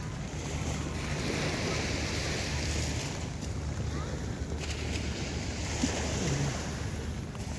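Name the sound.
boat on water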